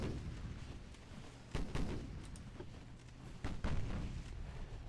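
Warship guns fire high-explosive shells in Ultimate Admiral: Dreadnoughts, two heavy booming salvos about two seconds apart over a low, steady rumble, with no talking.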